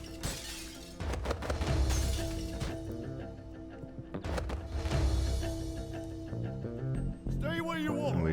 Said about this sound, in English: now the alarms are disabled, so you can smash any glass you want.